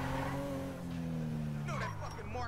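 A car engine drones and shifts pitch as a vehicle is driven in the video game GTA V, with tire noise near the end and someone speaking over it.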